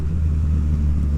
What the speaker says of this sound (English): The exhaust has a nice note to it, not too loud.